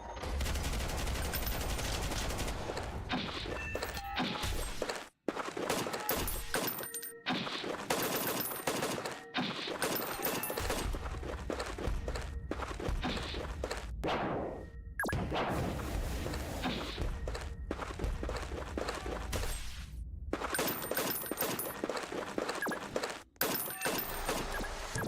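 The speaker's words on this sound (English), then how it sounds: "Wow, that is a 5 volley machine gun." Machine gun fire in the combat video game Noobs In Combat: Cold Front, sustained dense gunfire over a long stretch broken by a few short gaps, fairly quiet overall.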